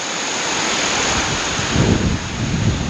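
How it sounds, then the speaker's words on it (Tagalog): Strong wind gusts buffet a storm-battered campsite near Mayon in Tabaco, Albay during heavy rain, a steady loud roar of wind against the microphone that swells into heavier rumbling gusts toward the end. "Kaya nga lang ngayon hindi payapa gawa ng malakas yung hangin"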